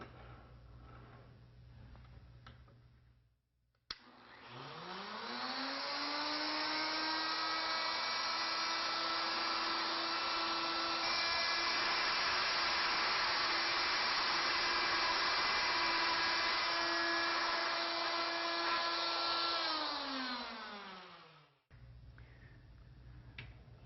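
A router on a carriage-driven jig carving a spiral into a wooden wand, spinning up, holding a loud steady whine for about seventeen seconds, then winding down to quiet.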